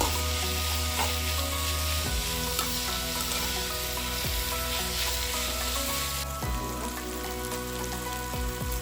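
Capsicum frying in a pan for chicken lollipop, a dense continuous sizzle with crackling spatters and occasional low scrapes of stirring, close and steady throughout.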